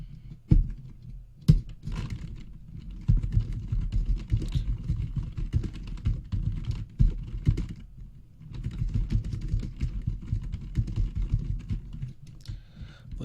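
Steady typing on a computer keyboard fills the stretch, with a dense run of close key clicks, a few louder separate strikes like enter presses, and brief pauses between bursts.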